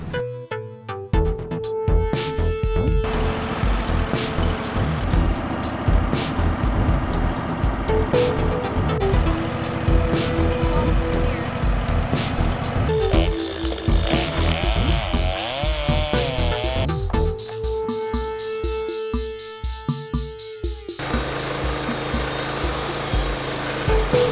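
Sawmill milling a log into lumber, a steady loud engine-driven saw drone that runs continuously for the whole stretch, shifting in pitch and load as the blade cuts, with no talk over it.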